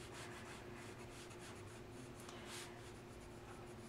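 Pencil strokes shade a peach drawing on paper, a faint, steady scratchy rubbing that goes on continuously at close range, with no talking.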